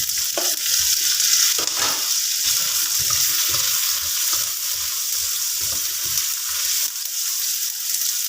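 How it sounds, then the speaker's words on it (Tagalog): Tomatoes and chili frying in a pan for a squid dish, a loud, dense sizzle running throughout with irregular spoon scrapes and stirring knocks close up. "Lagay natin ang kamatis. Lagay natin ang sili."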